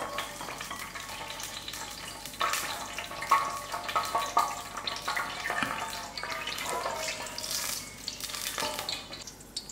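Three small dry chilies fry in half a cup of hot oil in a pot, a steady, close sizzle that runs throughout with brief louder crackling bursts.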